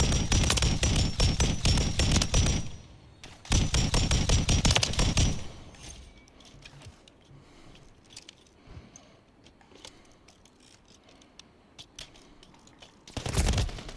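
Pulemyot 762 light machine gun firing in Call of Duty Modern Warfare III: two loud, close, sustained bursts of rapid automatic fire, a quieter stretch with distant scattered shots, and then a third burst at the end.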